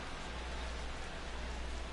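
Steady rain falls during a storm, a soft, continuous hiss of drops on a surface with a low rumble underneath, faint and unbroken throughout.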